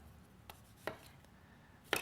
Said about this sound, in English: So just kind of chop it in any way you like.